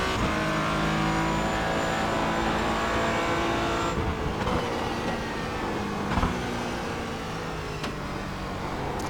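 A Porsche Cayman GT4 drives Sonoma in the iRacing sim, its engine droning loud and continuous from onboard. The pitch shifts through downshifts and acceleration, and faint tire noise runs underneath.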